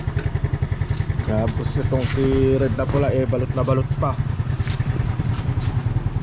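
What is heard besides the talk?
Yamaha Mio motor scooter engine warming up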